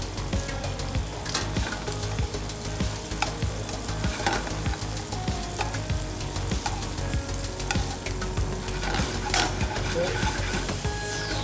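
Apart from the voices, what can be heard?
shrimp frying in a pan with olive oil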